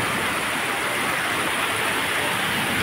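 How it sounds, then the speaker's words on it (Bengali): Steady morning rain falls in front of a house, heard from a balcony as a continuous even hiss with no breaks, fairly close and moderately loud. "দেখো সকাল সকাল বৃষ্টি হচ্ছে"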